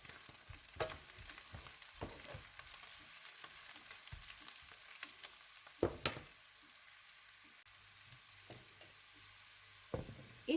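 Vegetables with carrots fry quietly in a pan, a soft continuous sizzle punctuated by scraping and clattering as a utensil stirs them, with a few louder knocks against the pan.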